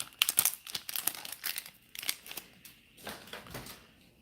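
Plastic wrapper of a Bakugan Battle Planet booster pack being torn open and crinkled, a quick series of sharp, close rustles and rips.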